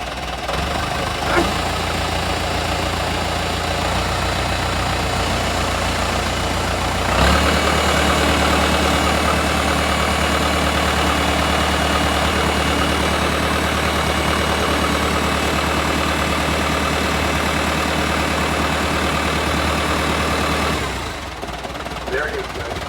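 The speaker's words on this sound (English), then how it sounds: "430 case. Nice little tractor." A Case 430 tractor engine idles steadily and loud and close for the whole stretch, a constant low rumble with a knocking undertone, briefly shifting pitch partway through before settling back.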